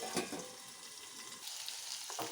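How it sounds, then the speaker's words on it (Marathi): Tomatoes and garlic frying in a kadhai for a tomato chutney, a quiet steady sizzle with a couple of soft stirring sounds, close but low in level. "सगळे टोमॅटो कढईमध्ये टाकून घेतले। याच्यासोबत आपल्याला लसूण पण फ्राय करून घ्यायचं आहे।"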